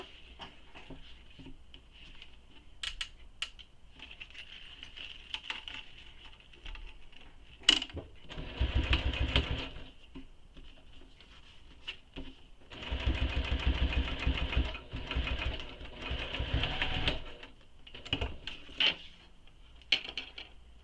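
A sewing machine top stitching the side of a waist pack gusset, short whirring runs that start and stop in bursts, with quieter pauses and small clicks between them.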